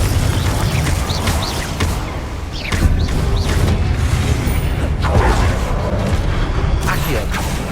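A Confringo fire-blast spell in the video game Hogwarts Legacy goes off amid a loud, continuous rumble of booms, whooshes and crashes. A voice is briefly heard over the din.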